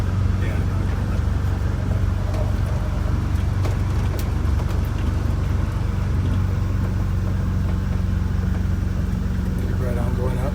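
A vintage Scenicruiser bus climbs a steep grade with the throttle held open, its engine droning loud and steady throughout with cabin rumble and road noise, and people talk faintly beneath it.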